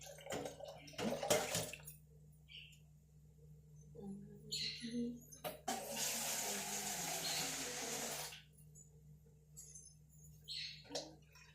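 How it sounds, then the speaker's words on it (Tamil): Water runs from a tap in a steady stream for a couple of seconds, with shorter splashes before and after. "தண்ணி ஊற்றிடலாம்."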